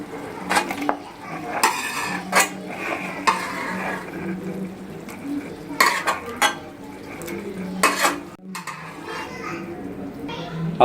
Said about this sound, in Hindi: अब हम इसको एक प्याले में निकाल रहे हैं।